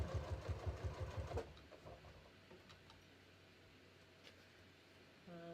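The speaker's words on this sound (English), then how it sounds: "So I'm just going to literally stitch right near this edge." A sewing machine stitches close to a fabric edge while shorts are sewn, running in a quick rhythmic burst for over a second, then falling to faint ticking and near silence.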